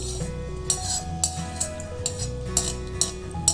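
Utensil stirring milk powder gulab jamun as they fry in a pan of oil, giving repeated light metallic clinks and scrapes at a steady rhythm over a constant frying sizzle, close and moderately loud.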